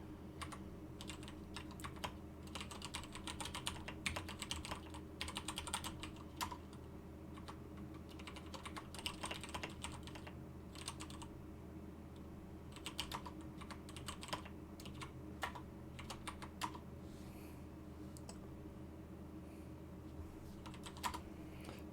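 Rapid, uneven keystrokes clatter on a computer keyboard for the full stretch, close and moderately quiet, with bursts of typing separated by brief pauses and no talking.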